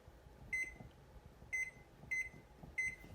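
A kitchen timer beeps four times in a cooking setting, each a short bright electronic tone spaced unevenly, moderately loud over a quiet background.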